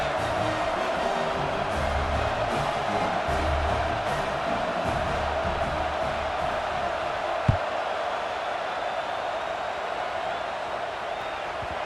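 A stadium crowd in the College Football 26 video game murmurs as a steady, subdued roar, with one brief thump partway through.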